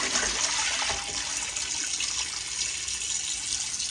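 Kitchen tap running steadily while raw chicken is washed for frying, a continuous bright hiss of water splashing into the sink, close and fairly loud with no voices.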